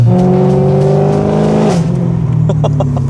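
A loud BMW M3 engine held at high revs close by, then the pitch drops as it eases off into a rougher idle.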